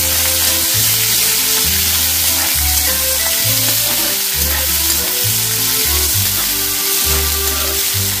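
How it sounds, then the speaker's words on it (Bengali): Two medium chopped onions lightly frying in a pan, with a continuous close sizzle over a loud, rhythmic, pulsing low hum repeating about every second. "আর এর মধ্যে 2টো মিডিয়াম সাইজের পেঁয়াজ আমি কুচিয়ে রেখেছিলাম দিয়ে দিলাম। দিয়ে এটা হালকা ফ্রাই করে নেব।"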